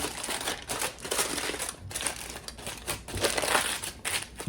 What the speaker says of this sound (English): get a piece of aluminum foil that you can wrap the entire onion up in